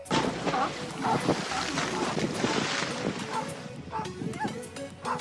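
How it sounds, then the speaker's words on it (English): A small dog barks repeatedly at a group of six seals outdoors near the water, the sharp yaps coming in bursts over steady wind noise and a busy, broadband background. "when a small dog ran into 6 seals, they all got quite scared of the dog"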